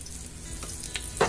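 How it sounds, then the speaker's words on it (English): Mushrooms and onions frying in a little oil in a pan over medium heat, a close continuous sizzle with a sharper crackle at the end. "I'm gonna get the mushrooms and the onions in the pan. I've got a little bit of oil in here on a medium heat."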